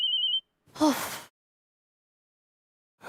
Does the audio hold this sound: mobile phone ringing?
yes